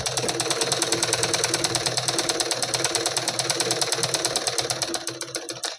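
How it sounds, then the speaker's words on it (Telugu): A sewing machine stitches a blouse in a fast, even mechanical rattle, loud and close, running steadily before slowing and stopping near the end. "కుట్టు అనేది కుడదాము."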